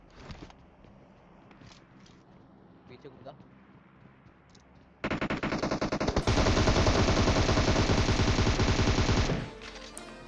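Gunfire in PUBG Mobile: a few faint distant shots and quiet movement, then a sudden loud close burst of rapid automatic fire lasting several seconds before it cuts off.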